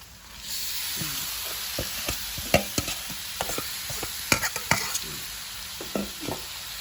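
Jackfruit and pork stir-fried in a pan, a steady sizzle with repeated scraping and clacking stirring strokes, close and fairly loud throughout.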